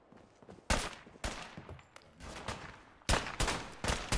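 Gunfire in the video game Fallout 4 comes in loud, close bursts of rapid shots, several separate volleys cracking out with brief quieter gaps between them.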